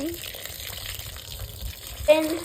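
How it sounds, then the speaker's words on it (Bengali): Water splashes onto potted plants in a rooftop garden, a continuous spray with a brief louder gush near the end, while people talk nearby. "গাছে একটু জল দেবে, জল দেবে, স্নান করিয়ে দিচ্ছে একদম"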